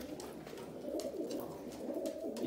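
Several domestic Mardin pigeons coo softly and continuously in a low, throaty murmur, with overlapping calls inside a coop.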